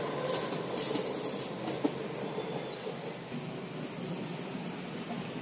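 A Mumbai local train rolls past with a steady, loud rumble and hiss, a faint wheel squeal rising partway through, continuous for several seconds with no one speaking.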